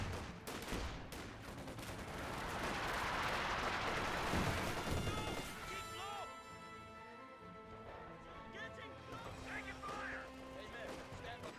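Battle sounds from the World War II strategy game Company of Heroes 2 with dense, continuous gunfire and explosions that swell for several seconds, then thin into scattered shots and clanks as someone commentates over them.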